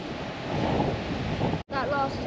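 Ocean waves breaking on the shore of North Stradbroke Island, a steady broad wash of surf mixed with wind buffeting the microphone, with a brief drop-out before the roar resumes.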